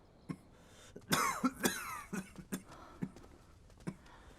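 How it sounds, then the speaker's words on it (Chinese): An ailing father coughs persistently, a cluster of harsh coughs followed by a few scattered, fainter ones, close and clear with no talking. "还是咳嗽不止，难以安寝。"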